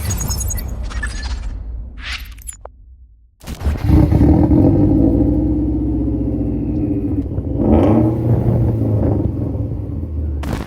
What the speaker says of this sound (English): This is a Golf Mark 5 GTI with a Subaru engine. Got the sound